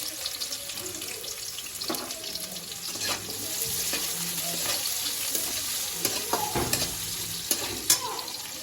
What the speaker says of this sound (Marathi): मी जिरे टाकलेले आहेत आता तेलामध्ये। त्यानंतर आपण हा कांदा टाकूया।